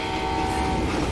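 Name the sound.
train in the video game Call of Juarez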